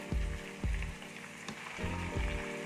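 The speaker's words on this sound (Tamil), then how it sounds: "சிக்கனை போட்டுட்டு ஒரு ஒரு நிமிஷம் அந்த எண்ணெயிலே வதக்கிறோம்" Chicken pieces sautéing in hot oil for a village-style ground-masala chicken curry, a quiet sizzle under several dull thumps and clatters as the pieces are stirred in the pan.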